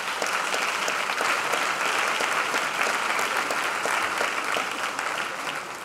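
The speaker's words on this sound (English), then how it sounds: "I think that deserves a round of applause." A large audience at a school convocation breaks into loud, sustained applause, a dense wash of clapping that holds steady throughout and only begins easing at the very end.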